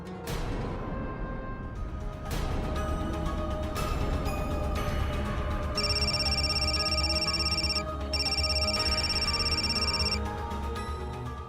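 A telephone rings in a Hindi crime drama scene: two sustained bursts of electronic ringing, each about two seconds long, sound over steady background music. No one speaks.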